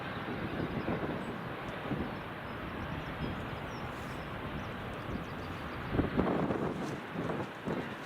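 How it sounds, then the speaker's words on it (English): Finnair Airbus A319 and other airliners taxiing at Edinburgh Airport, a steady broad jet-engine rumble and whine with wind noise across the mic, swelling slightly louder toward the end. "We've also got the Finnair A319 that's taxiing along now as well."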